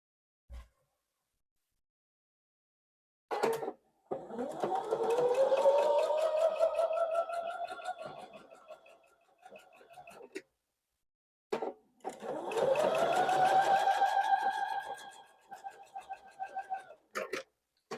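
A sewing machine stitches quilt pieces for a Santa pixel quilt in two long runs, each starting with clicks and rising to a steady whirring hum before stopping, with short taps between.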